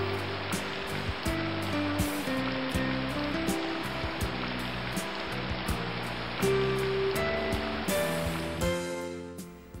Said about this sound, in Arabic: تنحدر مياه شلالات معين باتجاه البحر الميت من قمم جبال شاهقة داكنة اللون